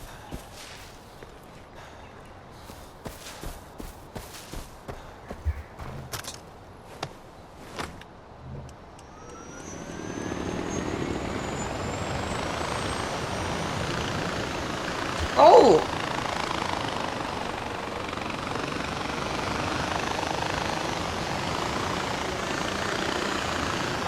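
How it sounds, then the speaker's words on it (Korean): Helicopter flying in the Far Cry 4 video game, a steady droning rotor roar that swells in and holds loud for the latter half, after a stretch of sharp footstep-like taps. "헬기가 어디로 갔지?"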